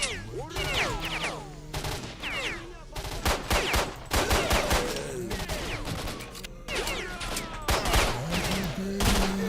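Rapid bursts of gunfire against zombies in S.T.A.L.K.E.R.: Shadow of Chernobyl, loud close volleys of automatic shots coming in clusters with brief pauses, mixed with creature growls and game sounds.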